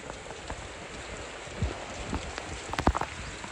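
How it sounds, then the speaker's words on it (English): Heavy rain pours outdoors as a steady, dense hiss of drops on surfaces, with a few louder splashes and thumps near the end and no talking. "It is raining a lot out here."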